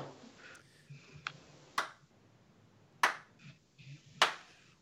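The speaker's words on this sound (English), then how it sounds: "he's going to do some claps" Hand claps ring out in three loud, sharp, evenly spaced bursts, with a few fainter taps in between and no talking.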